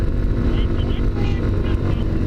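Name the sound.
Junak RX 1 motorcycle climbing hills in third gear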